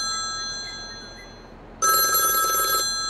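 A telephone in Landwirtschafts-Simulator 22 (Farming Simulator 22) rings once with a bright electronic tone, cutting in sharply after a quiet stretch and stopping about a second later.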